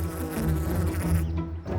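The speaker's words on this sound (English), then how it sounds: "All my romantic plans were ruined by a swarm of bees." A swarm of bees from a country-house apiary buzzes loudly and continuously, a dense droning hum that fills the whole stretch before thinning out near the end.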